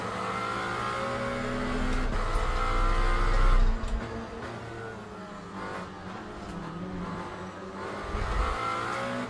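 A hypercar in the Le Mans Ultimate racing game roars continuously, the engine note climbing and falling through revs and gear changes, loud and sustained with brief tire squeal, no voices over it.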